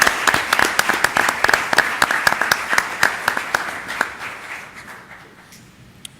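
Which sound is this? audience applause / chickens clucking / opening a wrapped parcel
audience applause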